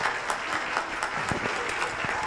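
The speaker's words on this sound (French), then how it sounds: "applaudissements s'il vous plaît" An audience claps in a brief burst of applause, moderately close and fairly quiet, with some voices mixed in.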